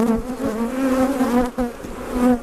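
Honeybees buzz loudly and close by while a colony is opened and inspected during a split, a dense, wavering drone of many wings with no talk.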